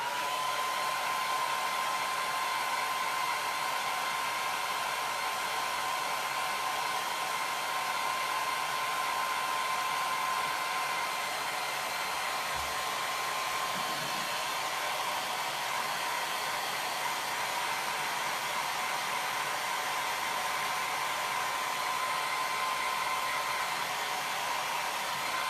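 A hair dryer runs steadily and fairly loud for the whole stretch, drying a chalk design on a black-framed board, its even whooshing hum unbroken and alone.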